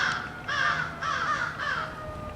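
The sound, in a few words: crows calling back and forth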